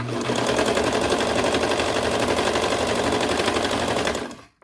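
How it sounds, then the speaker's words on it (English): Serger overlock machine stitching fabric for a child's bubble romper, a fast steady rattling hum close by for about four seconds before it stops abruptly. "I like to turn off my knife and keep serging"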